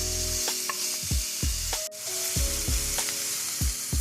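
Onion sautéing in a pan over medium-low heat, with a steady sizzle running throughout and a few spaced spatula stirs and scrapes against the pan, close and fairly loud, no talking.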